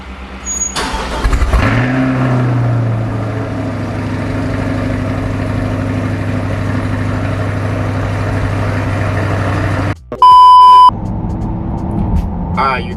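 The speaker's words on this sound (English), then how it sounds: "here's a cold start before the exhaust is installed" A Chevrolet C8 Corvette on its stock exhaust fires up from cold with a sharp rev flare, then settles into a loud, steady high idle close by. A brief electronic chime cuts in near the end.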